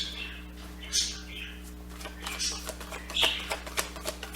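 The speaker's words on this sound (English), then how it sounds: "My birds are really talkative today." Pet birds chirp and call faintly indoors in several short, scattered bursts over a steady background hum.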